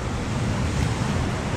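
Ocean surf washes in at Praia do Rosa beach in Brazil, where a strong current pulls water back out. It makes a continuous, broad roar of breaking waves mixed with wind noise, with no voices.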